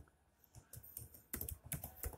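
Keys on a computer keyboard clatter in quick irregular bursts as code is typed, the clicks growing louder and denser after a short lighter opening, with no voice.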